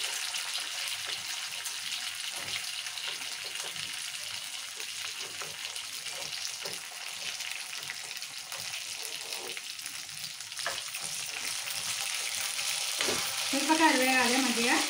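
Green chillies frying in a pan for a tomato and green chilli chutney, giving a steady close sizzle with stirring scrapes that grows slightly louder toward the end.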